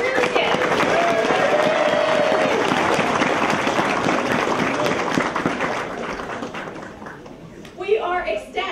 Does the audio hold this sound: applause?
yes